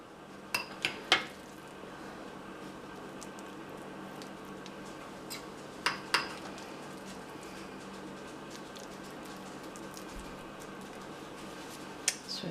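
A spoon scraping and tapping in a dish while filling goes back into twice baked potato skins, a few sharp clinks in small clusters over a quiet room hum.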